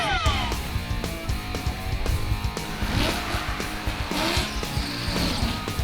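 A 1969 Buick Skylark doing a tire burnout at the drag strip: a loud, steady engine roar with screeching tires that runs the whole time and never drops off.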